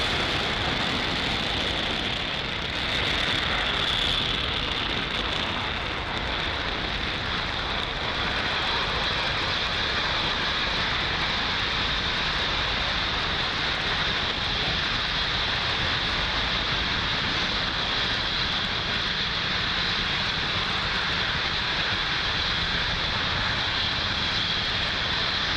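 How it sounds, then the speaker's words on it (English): A SpaceX Falcon 9 lifts off from Pad 40 at Cape Canaveral, its first-stage engines producing a steady, loud, broadband roar that stays dense and unbroken throughout. "Falcon 9 has successfully lifted off from Pad 40 at Cape Canaveral"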